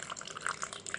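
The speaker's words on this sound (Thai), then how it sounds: "จะได้อาบน้ำสักที ว้าว น้ำนี่เย็นสบายดีจัง" Water splashes and trickles steadily in a toy play scene of a bath at the seaside, with bright dripping and pouring sounds close by and no talking.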